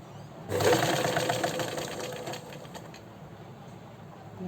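A sewing machine stitches piping onto fabric, its needle running in a steady rapid mechanical whir that starts abruptly and continues at moderate volume close by.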